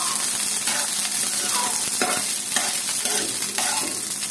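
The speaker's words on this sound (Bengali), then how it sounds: "এরপরে দিয়ে দেব পেঁয়াজ রসুন, এই যে পেঁয়াজ রসুন দিয়ে দিলাম" Onion and garlic fry loudly in a pan, a steady dense sizzle broken by repeated scraping strokes of stirring, with no voices.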